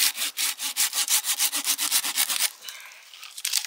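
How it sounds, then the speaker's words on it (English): Hand saw cuts through a fatwood branch outdoors with a rapid, even back-and-forth rasp of about a dozen strokes, close and clear, then a short pause before a few more strokes. "Yeah, this you can saw right here."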